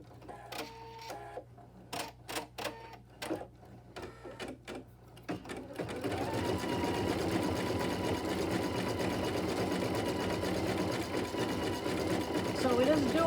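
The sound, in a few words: embroidery sewing machine stitching decorative stitch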